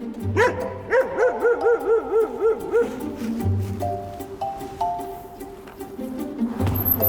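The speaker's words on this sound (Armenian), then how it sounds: "Վտանգավոր են, հա, շատ վտանգավոր են մեր մոտ շները։" Several dogs at a sanitation work site bark and yip in a rapid rhythmic burst close by, then keep up scattered, lighter barks and whines over a busy background.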